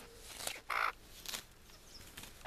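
Garden hens feed at a wire fence with scattered pecking and scratching, a couple of short clucking calls, and some rustling close by, all fairly quiet.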